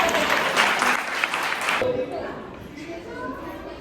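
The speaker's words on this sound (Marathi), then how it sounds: "माझे दोन्ही मामा आणि मामी स्टेजवर एकदा जोरदार टाळ्या" Clapping from an audience at a 60th birthday Diamond Jubilee celebration, a burst of applause for family on stage that fades after a couple of seconds as a voice continues over a microphone.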